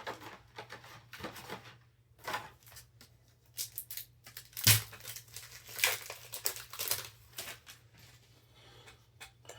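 Bulk pile of trading cards being handled and straightened, with irregular bursts of crinkling, sliding and shuffling card sounds, close and fairly quiet, over a faint low hum.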